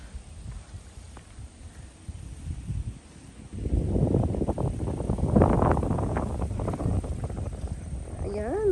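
Wind outdoors in Japan buffets the microphone in low, rumbling gusts that grow stronger partway through, while a person talks under the blustery noise.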